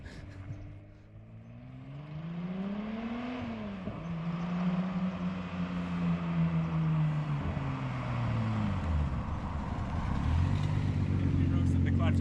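Datsun 280Z engine running on the road after an ignition timing adjustment, a steady close drone that climbs and drops in pitch as it accelerates and shifts, with faint road noise throughout.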